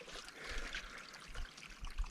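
A small flow of water trickling out on a hillside in Himachal, a faint, continuous soft babble with light splashes, heard alone without talk.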